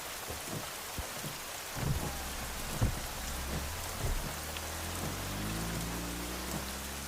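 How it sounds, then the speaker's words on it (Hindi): Heavy rain pours steadily through a dramatic film scene, with occasional low rumbles like distant thunder beneath the downpour and a low sustained tone rising toward the end. "बारिश भी शुरू हो गई।"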